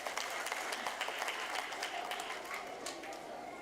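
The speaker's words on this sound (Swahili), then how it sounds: "Tupigie makofi tafadhali." An audience at a polio vaccination campaign launch applauds, sustained dense clapping from many hands that holds steady and then tapers slightly, with some voices mixed in.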